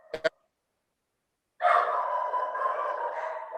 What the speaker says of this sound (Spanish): ladran y no me dejan escuchar